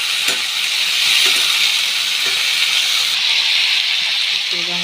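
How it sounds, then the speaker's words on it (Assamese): Peas and potatoes stir-frying in oil in a pan, a steady close sizzle with a few scraping stirs, and brief speech at the end. "এতিয়া ওলট পালট কৰি দিওঁ। গোটেইখিনি তেল লগালৈকে"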